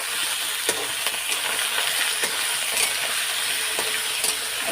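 Potatoes fry in hot oil with browned coconut in a pan, a continuous crackling sizzle punctuated by light metallic clinks of stirring, close and steady with no talking.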